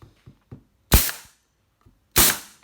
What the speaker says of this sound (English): If you've got a stapler, an air compressor stapler, it just makes life a lot easier